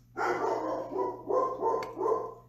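A dog barking indoors: about four sharp barks in quick succession, close and fairly loud, with a short gap before the last one.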